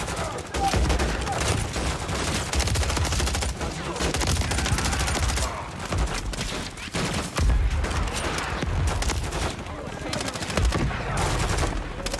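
Dense, loud gunfire fills a Modern Warfare campaign firefight, with sustained bursts and repeated shots running throughout and no clear voices above the din.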